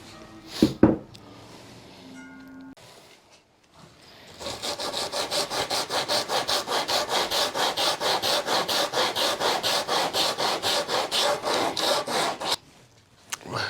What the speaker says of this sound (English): I think sanding's going to work better from that.